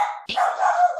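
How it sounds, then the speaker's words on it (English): A pet dog barks nearby during a home conversation, one sharp bark breaking in over a sustained yelping, whining bark that fills the whole second loudly. "Oh, sorry, that's my dog."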